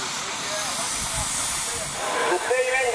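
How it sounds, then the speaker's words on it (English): A preserved steam engine at a steam and traction rally lets off a continuous loud hiss of steam, steady and close, with a faint low rumble beneath and a brief voice. "The steam engine down on the west end, he's got it in a neutral."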